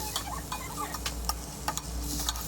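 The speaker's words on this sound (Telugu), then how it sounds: "పుదీనా ఎక్కువ వేయించాల్సిన అవసరం లేదు ఒక రెండు నిమిషాలు అలా ఈ యొక్క తాలింపులో మగ్గితే సరిపోతుంది" Mint leaves frying in an oil tempering for mint chutney: a steady, soft sizzle close by, broken by light ticking and scraping from stirring.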